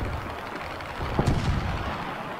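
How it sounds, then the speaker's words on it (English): Cannon shells strike an aircraft in the War Thunder flight game, heard as a few muffled thudding impacts and crackles over a steady engine roar, with no speech. "Those are cannon shells."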